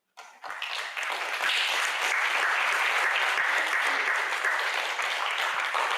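Dense audience applause at a legislative debrief event, rising quickly from silence into a loud, sustained wash of clapping that holds steady throughout.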